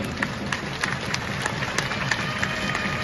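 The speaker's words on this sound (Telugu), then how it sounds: "అందరూ కూడా చప్పట్లు కొట్టండి" Audience clapping at a Telugu wedding ceremony for the Sita Rama kalyanam festival, a steady patter of many hands under a constant high tone, fairly even and moderately loud.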